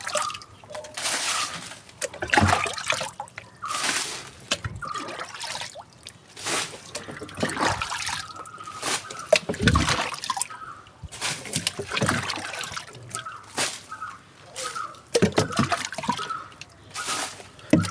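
Water being drained and poured during a guppy aquarium water change, irregular splashes, trickles and drips close by, with handling noises throughout.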